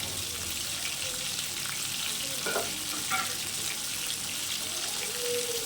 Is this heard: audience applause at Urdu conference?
no